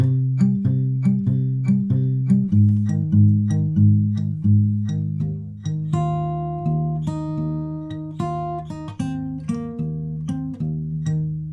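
An acoustic guitar plays the second line of the tab for a song, a steady run of plucked notes over repeating low bass tones, close and clear with no voice.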